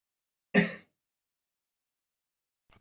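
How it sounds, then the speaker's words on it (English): A single short cough or throat-clear from a person nearby, one brief burst followed by silence, during an online VR community meeting. "Oh God, he coughed."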